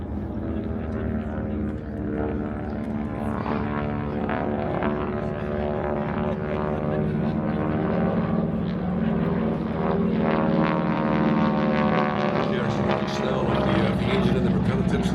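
A propeller warbird flying at the Warbirds Over Wanaka airshow in New Zealand, its engine a loud, continuous droning roar with strong harmonic whine that swells slightly as it nears, with faint commentary underneath.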